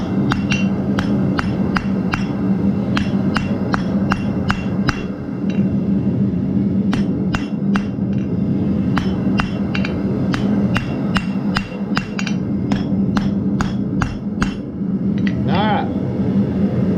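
Hammer blows forging a weld at an anvil: a steady run of sharp metallic strikes, close and loud, with a short pause midway before the rhythmic pounding resumes over a constant forge hum.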